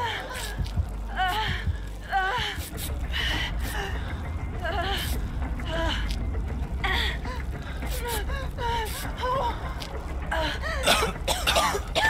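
A character in the horror video game Dead by Daylight coughs and gasps repeatedly in short, rough bursts over a low rumbling game backdrop, the hacking fits recurring throughout.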